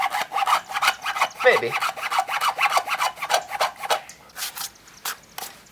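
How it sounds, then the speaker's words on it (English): Steady back-and-forth strokes of a handsaw cutting through a Miata cold air intake pipe in a garage, with a rapid, rasping rhythm that continues for several seconds and a brief spoken word partway through. "I might just cut it with this handsaw"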